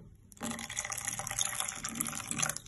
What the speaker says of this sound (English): I'm just gonna go ahead and add some more water